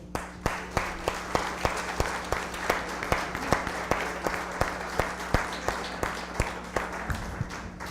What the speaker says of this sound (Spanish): un aplauso para mi tío